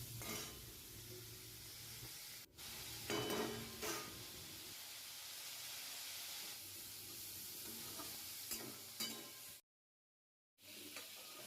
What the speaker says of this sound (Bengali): এবার কপিগুলো আমি ভেজে নিচ্ছি, সব কপিগুলো দিয়ে দিলাম।